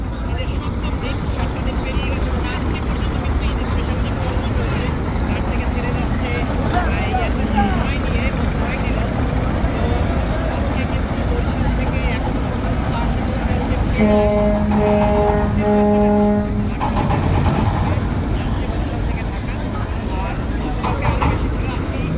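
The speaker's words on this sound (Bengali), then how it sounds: "লঞ্চটি কিন্তু সম্পূর্ণভাবে ব্যাগার নিচ্ছে এই মুহূর্তে কিন্তু টার্নিং নিচ্ছে কীর্তনকোলা নদীতে" A Bangladeshi passenger launch reversing and turning away from the Barisal ghat on the Kirtankhola river churns out a continuous heavy engine drone, with someone talking over it and a brief horn-like tonal blast partway through.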